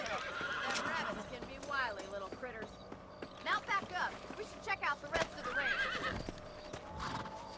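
In the video game Red Dead Redemption, a horse whinnies and neighs several times with clip-clopping hooves, heard under and between talking voices.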